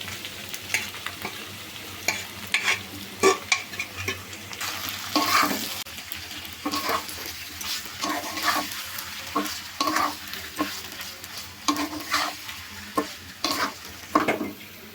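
Beef sizzles in a hot pan while a utensil scrapes and stirs in irregular strokes, loud and close throughout.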